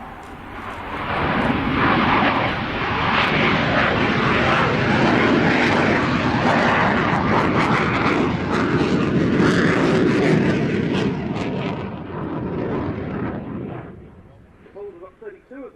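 A military aircraft makes a low go-around, its loud, close roar rising quickly and holding for about ten seconds before fading away into the distance.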